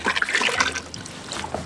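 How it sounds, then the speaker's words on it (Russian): Melted snow water pours into a 16-litre cauldron for cooking beshbarmak, a steady close trickle and splash lasting under two seconds, strongest at the start and then settling to a softer running flow. "Заливаем в казан воду."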